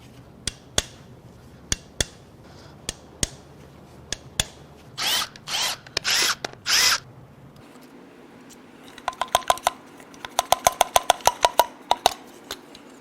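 Power tool loosening parts on a GMC 5.3L L84 V8 engine from a 2019 Sierra: sharp clicking bursts, a few loud whirring spurts of the drill, then a rapid string of impact clicks, close and alone.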